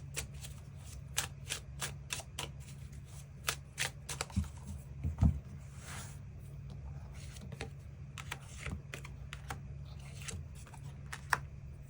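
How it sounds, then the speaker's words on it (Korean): Extra tarot cards drawn from a deck make a steady run of crisp, close card flicks and shuffling clicks over a low background hum, with no speech. "추가 카드 뽑아보도록"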